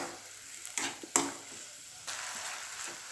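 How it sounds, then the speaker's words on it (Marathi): Small diced potato pieces frying together with tomatoes in a pan for tomato soup, a soft, steady sizzle with a few brief clinks and scrapes, close and fairly quiet with no talking. "त्याचे बारीक पीस करून टोमॅटोसोबतच त्याला फ्राय होऊ द्यायचं आहे"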